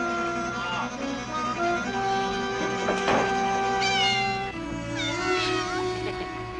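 A cat meows repeatedly inside a house, with rising and falling cries standing out against a steady background hum and other household sounds.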